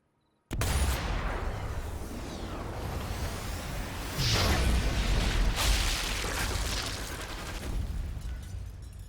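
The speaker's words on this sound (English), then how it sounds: "put a bullet into something that's going to make a very, very big explosion" A truck blows up from a sniper shot in Sniper Elite 4, a sudden loud blast followed by sustained roaring fire and debris, with a second heavy boom and rumble swelling midway before the noise slowly eases.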